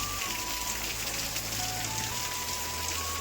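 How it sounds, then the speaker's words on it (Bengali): Steady rain falls close to a house, a dense, even hiss of drops on surfaces with no pauses and no voices. "তো দেখো এইদিকে বৃষ্টিটা এই সাইডে পড়ছে, ঠিক আছে, বাড়ির দিকে বৃষ্টিটা ঢুকছে গাইস"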